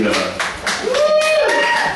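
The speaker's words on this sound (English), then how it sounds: "can definitely hear Sally clapping in the back" A single audience member clapping at a comedy club show, a few quick claps partly buried under someone talking into a microphone.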